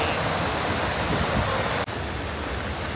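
A powerful Icelandic waterfall roars as a steady, dense wash of broadband noise, heard from a moderate distance with no pause and no voices.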